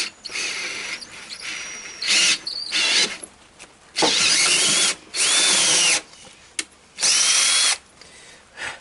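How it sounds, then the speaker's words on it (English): A power drill boring out a damaged spark plug thread on a pit bike engine, running in several short whining bursts of about a second each, close and loud, with quiet pauses between. "I'm going to drill it. This is the drill they provided"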